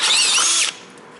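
A power drill bit bores into plastic with a loud, high whine for under a second, then cuts off abruptly, leaving a faint background hiss.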